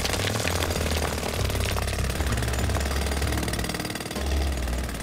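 A pneumatic jackhammer runs continuously in a loud, dense rattling drone with a low engine rumble beneath it, steady throughout with a slight dip near the end and no talking.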